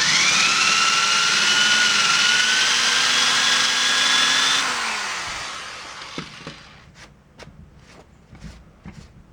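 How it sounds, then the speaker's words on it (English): Power reamer grinding a rounded edge onto a damaged race boat part, a loud, steady whirring drone for several seconds that then winds down, followed by a few sharp taps and clicks. "Take out our reamer here, put it on the first level."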